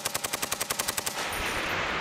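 An M240 machine gun fires a rapid, evenly spaced burst of about a dozen loud shots on a Marine Corps range at Camp Hansen, Okinawa, then the sound drops into echo and ringing.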